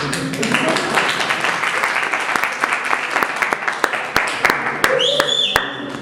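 Classroom applause breaks out after a student presentation on free software and hardware, a steady patter of clapping hands with sharp individual claps standing out, and voices murmuring underneath throughout.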